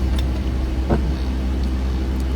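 Road traffic passes as a steady, loud low rumble, with a short whoosh from one passing vehicle.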